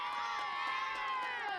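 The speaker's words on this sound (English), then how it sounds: "give me a big cheer!" Children cheer together in a sustained, loud crowd shout after a lost game, a bright continuous roar of young voices with no pauses.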